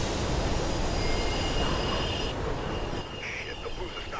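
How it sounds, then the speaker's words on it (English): A subway-style train roars through a tunnel in the video game Mirror's Edge, a loud continuous rumble with squealing wheels and rail noise that fills the whole stretch without pause. "the blues are stopping trains in the tunnels now"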